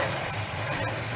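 A demolition derby car, number 31, idles steadily with a low rumbling engine note, close and continuous across a brief moment, with broadband track noise over it.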